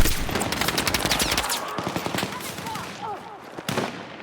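Rapid bursts of automatic gunfire in the video game Battlefield 6, loud close rattling volleys followed by a few scattered single shots, with a faint voice underneath.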